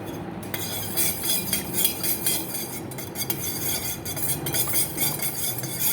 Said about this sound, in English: So I'm going to be continue mixing for a few minutes and make sure that all the ingredients are well mixed